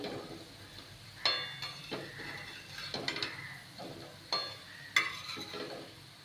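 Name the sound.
potato slices being stir-fried in a pan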